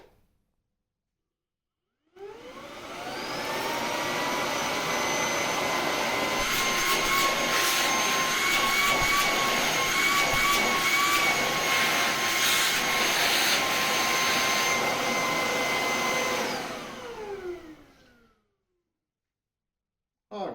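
An Electrolux Pure F9 Allergy cordless vacuum cleaner switches on and runs steadily with a loud airy roar and high motor whine for about fifteen seconds, then spins down to silence.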